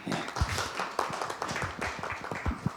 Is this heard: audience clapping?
yes